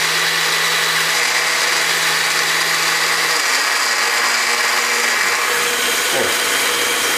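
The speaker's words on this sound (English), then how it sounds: "a good KitchenAid blender in the kitchen" A well-used KitchenAid kitchen blender, long used for crushing ice and making slushes, runs with a loud, steady whir. It holds a constant drone with a slight pitch shift near the end, and no one speaks.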